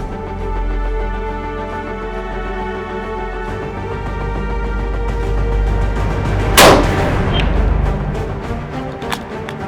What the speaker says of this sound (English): Okay, you can now fire and reload and fire again